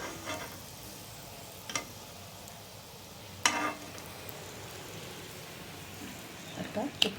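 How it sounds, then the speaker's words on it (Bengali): Chicken chops frying in oil, a quiet steady sizzle with a few soft clicks and scrapes of turning or lifting scattered through. "তো এইভাবেই আমি সবগুলো ভেজে নিচ্ছি।"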